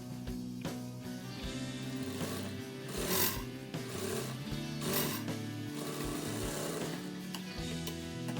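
Sewing machine top-stitching a half collar neck blouse, a quiet mechanical whirring with rhythmic clicking and ticking of the mechanism, pulsing in short runs with a couple of louder bursts, no talking.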